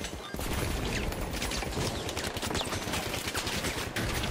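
Dense, sustained gunfire in the team shooter THE FINALS, continuous rapid shots at steady loudness with no pauses and no voices over it.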